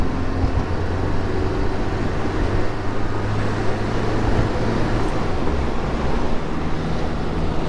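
Classic small Renault Le Car or Citroen driving, a steady broadband road and wind rush with engine rumble heard from inside the cabin, constant and fairly loud with no talking.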